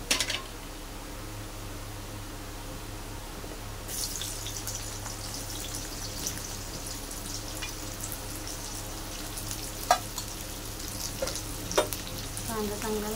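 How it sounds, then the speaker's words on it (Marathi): Onion dropped into hot oil for a Maharashtrian amti, frying with a steady close sizzle and a few sharp clatters and stirring knocks, no voices. "आपण ह्याच्यात कांदा टाकूया।"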